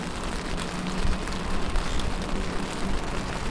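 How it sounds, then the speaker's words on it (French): Steady rain falls outdoors during a cold seaside cycling trip near Fort-Mahon, a dense, even hiss of drops with a low rumble that holds at a constant level throughout, no voices. "Et voilà qu'il se met à pleuvoir."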